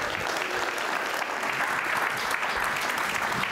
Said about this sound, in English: Give these guys a huge round of applause.